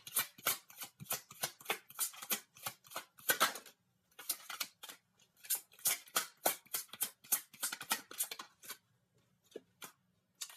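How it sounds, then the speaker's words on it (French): A tarot card drawn from the deck, heard as a long run of crisp card shuffling and snapping taps in quick bursts, fairly close and moderately loud, with a brief pause midway and no talking. "On va sortir une dernière carte."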